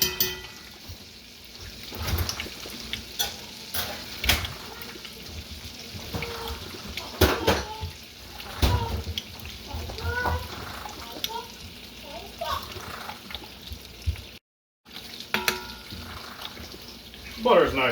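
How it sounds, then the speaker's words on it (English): Butter melting in a pot over a lower-medium flame while making crawfish pie, a steady soft crackling sizzle running throughout, with occasional clinks and utensil knocks and some talk over it. "Butter is nice and melted up."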